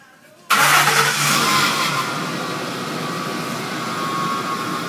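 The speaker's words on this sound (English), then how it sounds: "For remote start, we hit the start key twice. Horn honks, engine cranks." A 2004–2008 Ford F-150 pickup starts by remote start: a short quiet pause, then the engine cranks and fires abruptly and settles into a loud, close, steady idle.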